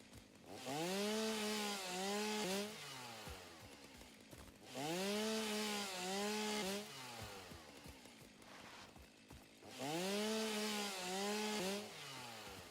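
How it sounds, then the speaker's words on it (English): A chainsaw in the video game Satisfactory revs in three evenly spaced bursts, each a loud rising and falling engine whine of about two seconds, with quieter idling between them and no talk. "Chainsaw's gonna get really annoying very quickly"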